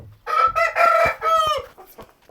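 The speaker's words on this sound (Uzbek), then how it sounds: "Bu oq tovuqlar" White hens clucking close by in a few loud, bursty runs of harmonic calls, broken by short pauses.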